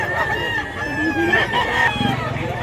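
Chickens at a market in Mantalungon, Cebu, with a rooster crowing and hens clucking close by, a steady murmur of market activity and faint voices underneath throughout.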